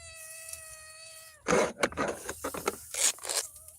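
A pet cat named Corey meows in a long, drawn-out cry, followed by a burst of scraping and rustling movement close by.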